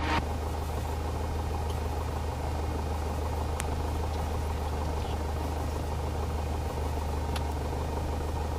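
Small piston aircraft engine idling on the ground after landing just before shutdown, a steady low droning rumble with constant vibration, close and unbroken throughout, no talking.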